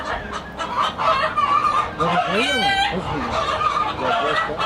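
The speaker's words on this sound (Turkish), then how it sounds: "Horozlar hepsi alarm olmuş" Several chickens and roosters in a coop cluck and squawk in agitated alarm during an eagle attack, calls overlapping close by, with people talking over them.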